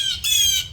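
Harsh, loud blue jay squawks close by, two rasping calls in quick succession with no other sound.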